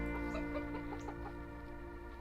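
Small young chickens cluck softly from a corner perch in a garden coop on a winter morning, a steady run of short clucks over a constant low hum.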